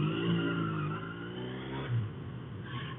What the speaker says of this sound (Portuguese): A moto tá dando uns pulos aqui no carburador